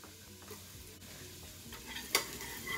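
Minced garlic hitting a pan of softened onions and butter gives a steady, quiet sizzle with faint stirring, and a sharp utensil clink lands near the end.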